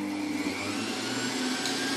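Kitchen appliance motor processing carrots whirs at a steady, even pitch for a couple of seconds, fairly faint and continuous, with no speech.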